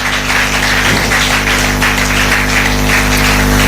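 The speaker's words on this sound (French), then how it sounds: "Applaudissez pour Jésus." Congregation in a church in Kara, Togo clapping hands for Jesus, a dense continuous patter of applause over a steady droning hum from the sound system, loud and unbroken throughout.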